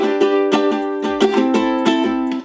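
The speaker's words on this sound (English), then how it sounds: "your down, down, up, down, up is gonna sound like this" Ukulele strummed in a down, down, up, down, up pattern: bright, close chord strums in a steady repeating rhythm, each stroke a sharp attack with ringing chords, no voice over it.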